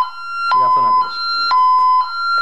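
Honeywell Vista security alarm sounding, a loud electronic tone stepping between two pitches in a repeating pattern, with a person talking over the first part.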